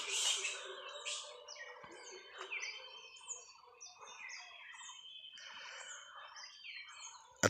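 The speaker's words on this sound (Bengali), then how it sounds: "আমি পাখির ডাকগুলো শোনাচ্ছি, শুনুন।" Birds call in a cold winter outdoor setting, a mix of bright chirps, short whistled phrases and trills overlapping near and farther off, with a brief louder burst at the start and a faint thump near the end.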